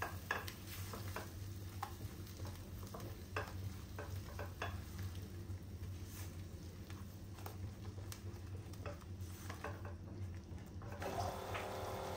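Masala frying in oil in a pan for an egg green masala, a faint steady sizzle with scattered soft stirring scrapes and clicks throughout, no talk.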